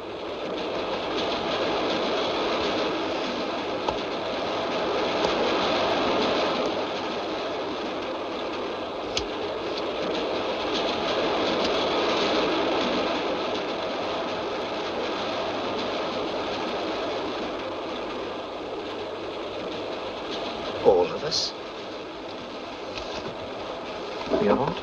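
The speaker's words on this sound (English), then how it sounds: "This train. It's gonna crash." A moving train rumbles along in a steady, continuous roar, its carriage noise constant and fairly loud, with a few brief sharp clicks and knocks near the end.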